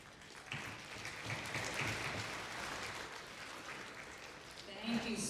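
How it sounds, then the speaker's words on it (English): Audience applause for a speaker at an Anishinaabe Nation gathering in Treaty 2 Territory, a soft, steady patter of clapping that swells briefly then holds, fairly faint, with a voice emerging near the end. "Let's give her another big round of applause"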